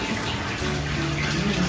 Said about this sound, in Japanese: かけ流し源泉